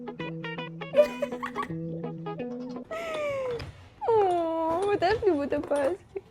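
A dog whimpers and whines in drawn-out, wavering cries close by, following a stretch of plinking music, the whines rising and falling unevenly.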